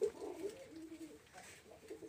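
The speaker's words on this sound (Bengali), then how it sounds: "এই দেখেন আমাদের খুলনা ঐতিহ্যবাহী পোষা জাতের কবুতর" Soft, low cooing from traditional Khulna pet-breed pigeons repeats in a steady murmur, fairly close, with faint background hiss and no talking.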